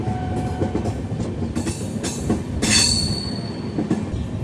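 Train hauled by a shunting locomotive rolling past at Basin Bridge Junction, heard from aboard a Humsafar Express: a steady rumble of wheels with brief high squeals and clanks.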